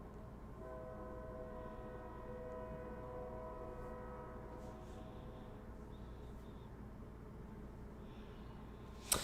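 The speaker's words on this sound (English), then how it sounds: "Oh, we're getting a lot of train horns now." Sustained train horns play over a livestream, layered steady chord tones holding for several seconds with faint higher tones joining later, fairly quiet and alone, ending in a brief click.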